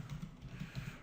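Keys tapped on a computer keyboard while writing JavaScript code, a quick, uneven run of soft, close clicks with no one talking.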